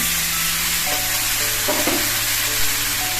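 Marinated chicken for dum biryani hits hot oil seasoned with bay leaf and cumin, producing a loud, continuous close sizzle with a brief burst of stirring.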